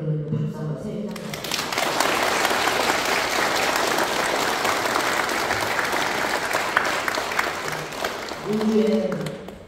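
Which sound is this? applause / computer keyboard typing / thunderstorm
applause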